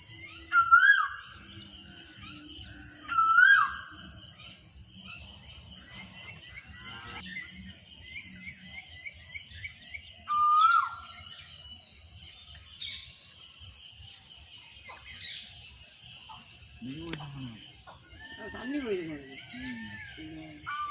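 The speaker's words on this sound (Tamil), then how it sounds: "நல்ல ஒரு இனிமையான சத்தம் குயில் சத்தம்" An Asian koel calls repeatedly at intervals, rising whistled notes, over a constant high insect drone, with other chirps later.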